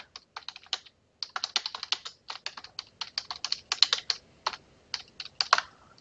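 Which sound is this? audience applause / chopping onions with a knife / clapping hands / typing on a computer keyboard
typing on a computer keyboard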